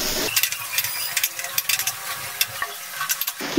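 Onion and ginger frying in oil for chire pulao give a soft, steady sizzle with light stirring clicks and scrapes throughout, close and fairly quiet, with no talking.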